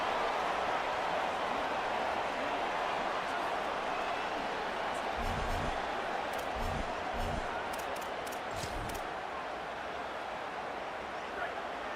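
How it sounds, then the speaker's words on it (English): Stadium crowd roar in the College Football 27 video game during a third-down defensive stand, a steady, dense wash of noise running throughout with a few brief low thumps and bright spikes. "Decibels rising as the crowd gets behind this defense on third down."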